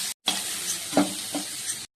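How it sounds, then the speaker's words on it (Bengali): Shrimp fry lightly in oil with a bright, continuous hiss and crackle, close and fairly loud, swelling briefly as they are stirred, then cutting off abruptly. "চিংড়ি মাছটা আমি হালকা ভেজে নেব"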